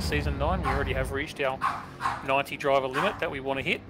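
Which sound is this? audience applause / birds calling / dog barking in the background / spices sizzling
dog barking in the background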